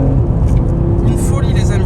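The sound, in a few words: Audi RS3 8Y accelerating at full throttle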